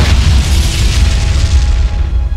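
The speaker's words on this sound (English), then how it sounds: "These explosions are really strong." A powerful explosion in the Minecraft Lord of the Rings mod during a battle, a loud, continuous booming rumble with heavy low-end roar and crackling debris that fills the whole moment without pause.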